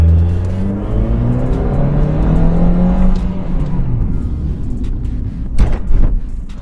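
A Nissan March Nismo small car engine pulls steadily up through its revs, a rising whine heard from inside the car, with a few clicks and knocks near the end.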